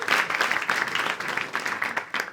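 Studio audience applauding on a French talk show, a dense wash of clapping that runs steadily for a couple of seconds at moderate level.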